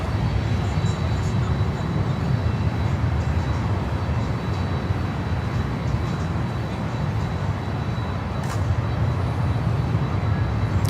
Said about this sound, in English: Our next one is American Airlines with a 777-200 coming in from Madrid.